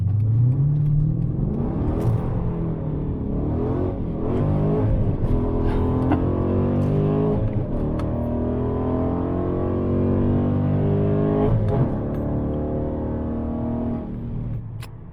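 A Dodge Challenger's engine revs up hard, its pitch climbing steadily through several gear changes, loud and close throughout.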